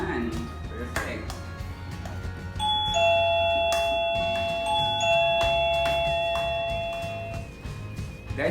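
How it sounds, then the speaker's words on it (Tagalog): A home doorbell rings indoors with a clear ding-dong chime, tones ringing out and sustaining for several seconds, with a few faint taps and background noise around it. "Guys, may nag-doorbell."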